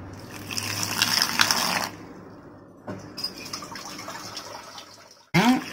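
Water poured into gram flour batter in a bowl, a few bursts of liquid splashing and trickling separated by brief pauses, near and moderately loud, ending with a sharper knock.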